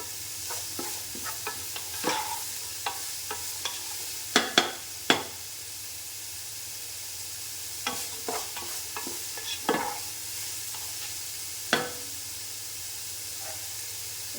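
Vegetables for chicken fried rice are sautéed in a pan under a steady low sizzle, with a spatula scraping and stirring in irregular knocks and clatters.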